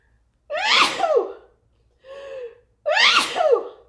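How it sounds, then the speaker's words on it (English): Two loud, sharp sneezes close to the mic, separated by a short breath, with silence in between. "I'm going to sneeze."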